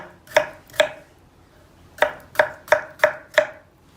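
A knife chops potatoes into cubes on a cutting board: two quick strokes, a pause, then five evenly spaced chops, close and crisp.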